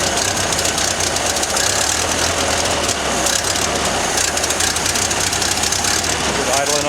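A Ford Model A engine revived after 30 years idles with a rough, rapid knocking rhythm, loud and close, with voices talking over the running engine.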